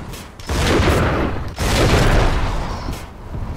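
Two heavy, booming explosion blasts in Bioshock 2 in quick succession, each a dense burst of crackling noise that decays briefly before the next.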